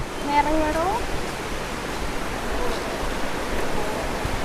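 A steady, broad rush of flowing water in a forest fills the scene, with a brief voice near the start.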